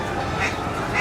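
Duck-like quacking rings out amid dense, steady noise of pouring rain and a crowd on Main Street at Disneyland, all within a single second.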